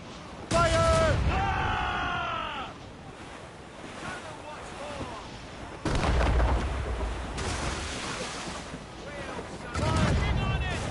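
Ship cannons fire in a naval battle in Assassin's Creed Rogue, heavy booms in three separate volleys over crashing waves and wind, with crew voices shouting orders between the shots.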